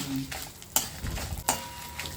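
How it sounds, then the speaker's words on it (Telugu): Dried red chilies sizzle in hot oil for a tempering, a close, steady frying crackle broken by two sharp scrapes of a stirring spoon against the pan. "మిరపకాయలు ఒకటి కొంచెం వేగిన తర్వాత రంగు మారిపోతాయి"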